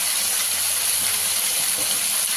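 Chicken frying on a high flame for a non-veg buttermilk curry, giving a loud, continuous, even hiss that stays steady throughout, with a faint voice underneath.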